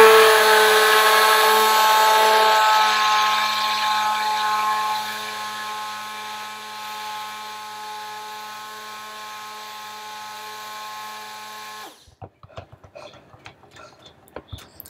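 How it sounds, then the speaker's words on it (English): A washing machine on its spin cycle gives a steady, high, multi-toned motor whine that slowly fades, then cuts out and leaves only a few faint clicks and knocks. "I don't know if you guys can hear my washing machine. It sounds like it's going through the rinse cycle. Or not the rinse, the spin."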